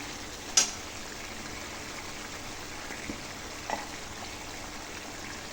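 Dhaba-style chicken cooks in a pan with a soft, steady sizzle and bubbling hiss, broken by one sharp clink near the start and a couple of faint knocks later.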